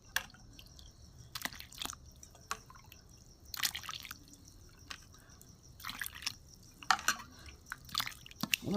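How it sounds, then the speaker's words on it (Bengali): Warm water is poured into rice flour dough for chakli pitha, making faint, close drips and soft wet squishes scattered unevenly over a quiet background. "এখানে আমি উষ্ণ গরম জল দিয়ে দেবো।"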